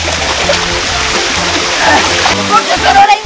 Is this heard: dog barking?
no